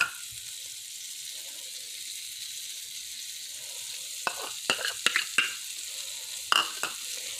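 Half a cup of margarine melting in a pan, heard as a quiet steady hiss that breaks into several faint pops and sputters toward the end, close up and without talking.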